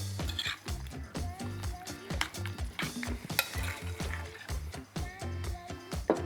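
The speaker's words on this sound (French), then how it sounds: "avec une cuillère, on vient mélanger." A spoon mixes bruschetta with basil in a bowl, giving continuous wet, squishy stirring and clinking strokes at close range with a steady rhythm.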